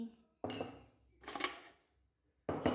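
Washed cups, ladles and spatulas handled and put away in a home kitchen: three bursts of clattering metal and crockery, close by, with short quiet gaps between them.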